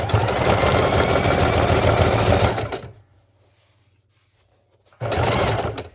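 Sewing machine back-stitching over a fabric corner on a junk journal cover, running in a loud, steady motor hum close by, pausing for about two seconds, then starting up again.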